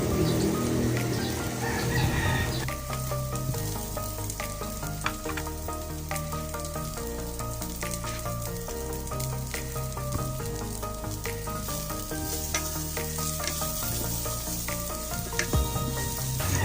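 Ginger and onion sautéing in a pan for an Ilocano snail dish, a steady close sizzle and frying hiss under background music with occasional stirring clinks.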